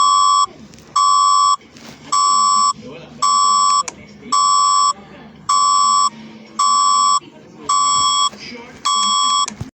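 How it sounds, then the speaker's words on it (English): An emergency alarm system on a broadcast network blares loud electronic beeps in a steady pattern, about eight evenly spaced pulses, with faint background murmur between them. "This is the emergency alarm system."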